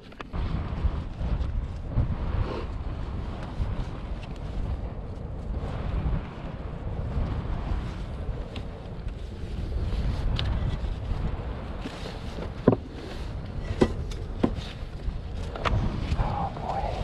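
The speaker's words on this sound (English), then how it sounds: "It's like a blizzard right now." Blizzard wind roaring steadily and loudly across the microphone outdoors in snow beside a 1993 Thundercat 900 snowmobile, a constant heavy buffeting rumble with a few sharp knocks near the end.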